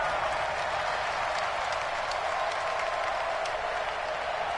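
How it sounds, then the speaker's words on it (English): A stadium crowd in a football video game gives a steady, dense roar of cheering and applause, heard from a distance and continuing throughout. "And this crowd into it early."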